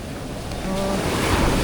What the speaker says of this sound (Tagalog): Lakas ng alon dito. Ayan po yung alon, ang lakas.